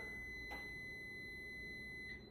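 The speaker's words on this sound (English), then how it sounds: "That is my timer for dinner." A kitchen dinner timer sends out a faint electronic beeping as a steady high tone with a couple of brief pulses, heard quietly over room noise with no speech.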